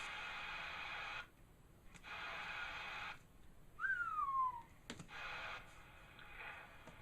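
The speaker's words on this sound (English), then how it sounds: "When I whistle into it, it goes all the way up." A whistle into a Cobra 29 CB radio with an RFX75 amplifier, one short falling whistle amid bursts of hissing static and clicks, fairly faint.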